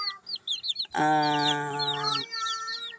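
Chickens cluck and chirp close by, with one bird letting out a long, drawn-out squawking call in the middle.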